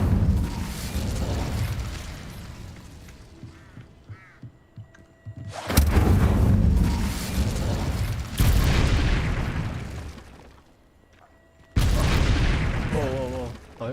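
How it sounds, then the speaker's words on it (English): Spell explosions in Hogwarts Legacy, where an Incendio fire spell sets off three loud booming blasts, each one sudden and heavy, then rumbling away. A voice speaks between them. "哦，还会爆炸！"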